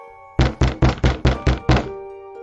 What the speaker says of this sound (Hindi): और दरवाजा खटखटाती है।